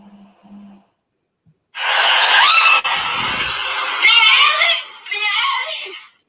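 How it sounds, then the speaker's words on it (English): A woman screams loudly and desperately while running for her life on a street in Pacoima, with sustained shrill cries broken by short pauses, after a brief quiet start. "screaming and running for her life in Pacoima"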